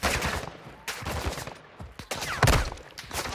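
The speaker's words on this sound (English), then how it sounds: "somebody's shooting, bro" Bursts of gunfire crackle in a video game firefight, several sharp shots scattered through the stretch, with the loudest volley near the end and no talking over them.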